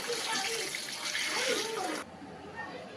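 Water runs steadily from a tap over freshly cut spinach leaves being washed, a close, even gush that cuts off abruptly partway through, leaving quiet background.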